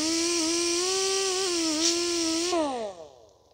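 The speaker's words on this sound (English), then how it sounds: "just going to clean the rust on the bolts if there's any." A high-pitched powered tool whirs steadily while cleaning rust off brake bolts on a 2021 Toyota RAV4 AWD. The tone dips slightly midway, then winds down and fades near the end.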